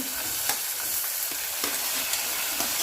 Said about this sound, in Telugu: పచ్చిమిర్చి, ఉల్లిపాయలు వేసుకొని కలుపుకోవాలి.